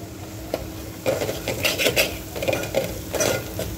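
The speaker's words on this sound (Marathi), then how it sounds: "आपले हे कोरडे मसाले पण 2 मिनिटं छान परतून घ्यायचे आहे" Dry ground spices, goda masala and coriander powder, stirred and sautéed in a pan for a drumstick curry, with irregular scraping and clinking of a spoon against the metal pan at close range.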